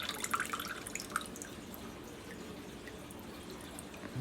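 Freshly made recycled paper sheet with a few scattered water drips early on, close and faint, then a quiet stretch.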